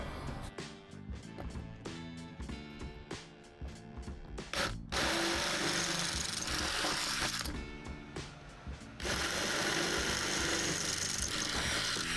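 A power drill drills out holes in metal Renogy solar panel brackets, whining in repeated short bursts, then running in long sustained stretches, loud and close, with metallic grinding and clicks between.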